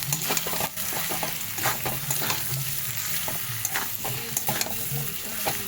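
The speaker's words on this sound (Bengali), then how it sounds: "চিকেন মশলা দিলাম দিয়ে এবার আমাকে এটাকে ভালো করে কষাতে হবে" Chicken with masala being sautéed in a pan, a steady sizzle broken by repeated scraping stir strokes, close and loud, with no talking.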